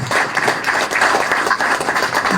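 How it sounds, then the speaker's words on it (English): Delegates at a National Unity Platform party conference applaud their president, loud and close, a thick sustained clatter of many hands with a slight rhythmic swell throughout. "Can we give our president another round of applause?"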